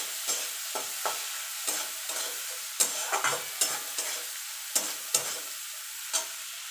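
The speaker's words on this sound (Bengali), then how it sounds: "এবার এটা হালকা করে একটু ভেজে নেব।" Pointed gourd with turmeric and salt fries quietly in a pan, a soft steady sizzle broken by a series of brief scraping stirs of a spatula at irregular intervals, close up with no talking.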